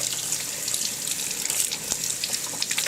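A tap runs steadily into a sink while a dog leash is rinsed under it, a close, even hiss of water with small splashing variations and no talking.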